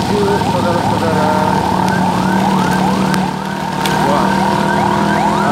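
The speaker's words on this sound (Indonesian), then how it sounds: "ada mobil ambulan ini saudara-saudara" An ambulance siren wails in rapid rising sweeps, loud and close, as it moves along a busy evening street in Grand Depok City, with traffic rumbling beneath and a brief exclamation from someone nearby.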